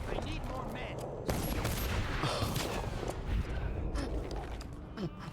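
Dense, continuous gunfire in a video game as characters shoot at rats. The rapid bursts of shots sit inside a busy, noisy game soundscape with scattered clanks and mechanical noises.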